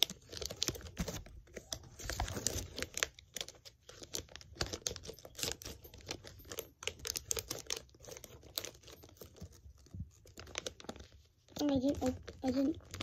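Scissors cut through vacuum-sealed plastic packaging around a plush toy, giving close crinkling, crackling and snipping sounds in irregular bursts while a person talks throughout.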